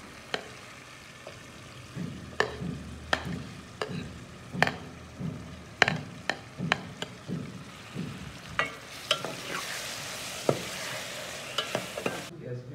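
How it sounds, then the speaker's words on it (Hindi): Onions, tomatoes, green chillies and mixed spices frying in a pan: a low sizzle runs throughout, broken by repeated scraping knocks of a spoon stirring, and the sizzle swells loudly near the end. "प्याज तकरीबन फ्राई हो चुके हैं ना"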